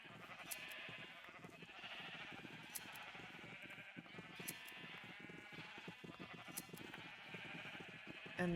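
Several Minecraft sheep bleat repeatedly in a layered, wavering chorus that carries on throughout at a fairly low level.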